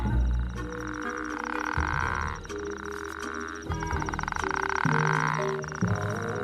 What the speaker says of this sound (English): His extending throat pouch amplifies his call, which echoes around the wadi.